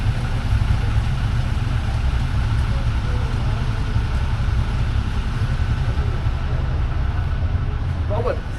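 Motorcycle engines idle steadily throughout during preparations for a Himalayan mountain ride, a continuous low rumble held at constant level, with faint background activity and no clear talk.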